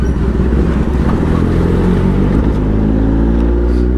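A Kawasaki ZX-10R sport bike engine revs hard and close on a rough road, a loud, dense roar with pitch rising as the revs climb, no talking.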